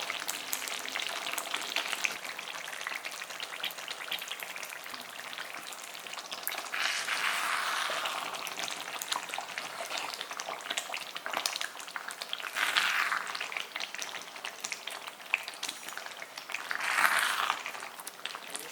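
Kolumichai lemon pickle frying on a slow flame, a steady soft sizzle with a few brief louder bursts of crackling, continuous throughout with no voices.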